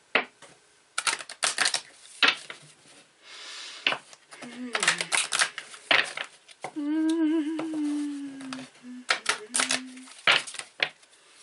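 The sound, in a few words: affirmation cards being shuffled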